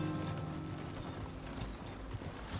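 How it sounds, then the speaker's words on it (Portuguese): A horse's hooves clip-clop along in the Red Dead Redemption 2 video game, a quick steady rhythm of light hoofbeats over a low ambient rumble, with no talking. "Vai, cavalo."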